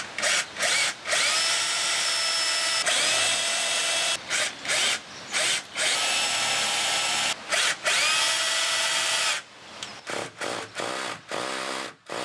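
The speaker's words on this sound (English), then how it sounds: "that will give us a mark for drilling." A power drill whines loudly in repeated bursts as it bores holes into a wall for mounting an external alarm sounder, each run starting and stopping abruptly with short pauses between.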